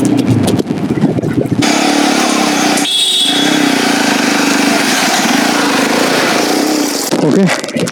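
Motorbike engine on a hill road near Mirinja Valley in Bandarban, a loud steady idling drone that runs for several seconds, briefly dipping, before cutting off near the end.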